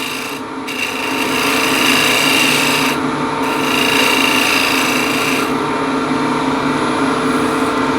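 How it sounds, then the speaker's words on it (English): A spindle gouge used as a shear scraper on yew wood spinning on a lathe, a continuous close hiss and rub over the lathe's steady hum, with brief lighter cuts between passes. "I'll use a spindle gouge and just use it as a shear scraper, very lightly"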